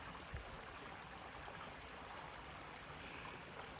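A creek flows along the Green Leaf Trail at Cumberland Gap as a soft, continuous wash of running water, steady and faint with no speech, just an even rushing hiss throughout.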